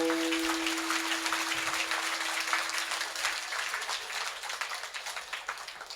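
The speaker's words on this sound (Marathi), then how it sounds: "और मी आल्यापासून टाळ्या वाजव म्हणतो." An audience clapping during a Marathi kirtan, a dense continuous patter of many hands in a large space, fairly loud and steady with a sustained tone ringing underneath at the start, no clear speech.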